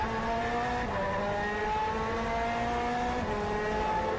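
GT2 race cars battling through a corner at Monza during an FIA GT round, engines howling steadily at high revs with shifting pitch as they pass, a loud continuous racing roar with no talk.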